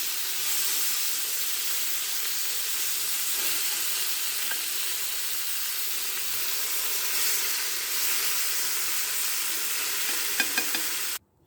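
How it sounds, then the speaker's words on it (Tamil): Rupchand fish sizzles and fries steadily in hot oil, a continuous close, loud crackling hiss that holds for about eleven seconds before cutting off, with no voices. "fish fry ரூப்சந்த்"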